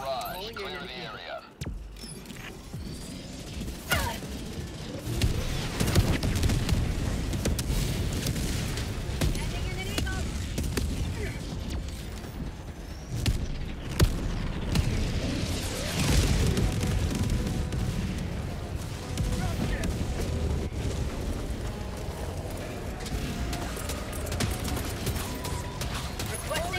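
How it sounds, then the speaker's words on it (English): Orbital barrage explosions in Helldivers 2 pound away continuously, a dense, loud barrage of booming blasts and rumbling impacts layered over game noise, with a voice talking briefly at the start. "Firing orbital barrage."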